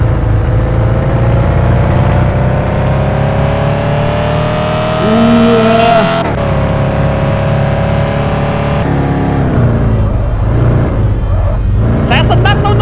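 A car driving in the video game Car For Sale Simulator 2023 produces a loud, steady engine drone whose pitch shifts as it accelerates. Someone talks over it throughout.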